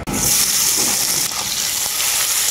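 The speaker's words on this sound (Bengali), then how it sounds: "টমেটোটাও পেঁয়াজের সাথে আমি হালকা করে ভেজে নেব" Chopped tomatoes frying with onions in a hot pan, a steady loud hissing sizzle that runs through without pause and with no talk.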